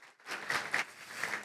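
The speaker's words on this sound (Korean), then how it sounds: "박수 한번 쳐드려도 될까요?" Seminar audience at a 5G-V2X technology showcase gives brief, moderately loud applause that swells in small waves after a short quiet start.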